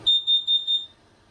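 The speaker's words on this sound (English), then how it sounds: "We do have a LP carbon monoxide detector down below us that has a real annoying little sound" An LP carbon monoxide detector mounted low inside an RV sounds four short, shrill electronic beeps in an even rhythm, then falls quiet.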